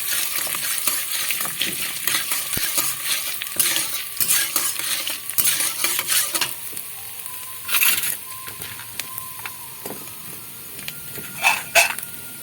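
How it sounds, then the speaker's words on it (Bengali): Dal and chopped ginger fry gently in a pan on low gas, a soft sizzle under frequent spoon scrapes and metal clinks against the pan, with a few sharper taps near the end. "এইভাবে গ্যাসটাকে কমিয়ে দিয়ে আস্তে আস্তে করে ডালটাকে আমি ভেজে নেব"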